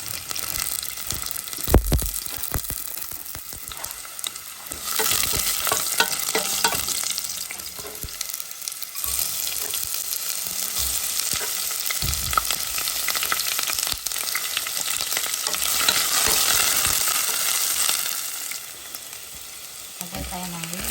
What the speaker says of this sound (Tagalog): umpisa na natin magluto sa ating adobong